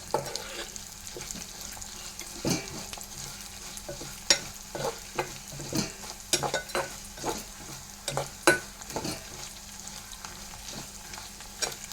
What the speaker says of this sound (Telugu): పప్పు కూడా ఎర్రగా వేగాలి.